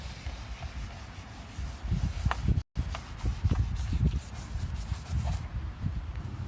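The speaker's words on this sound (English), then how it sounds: "Still scrubbing right along." A car headlight lens being scrubbed with Colgate toothpaste outdoors, close continuous rubbing and scraping strokes in an uneven rhythm, with a brief dropout midway and some wind noise.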